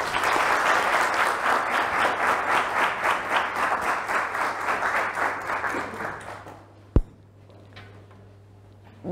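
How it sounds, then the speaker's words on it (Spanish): Strong, sustained applause from a seated audience welcoming a speaker at an academic colloquium, loud and dense clapping that fades out after several seconds, followed by a single sharp knock and near quiet. "recibamos con un fuerte aplauso"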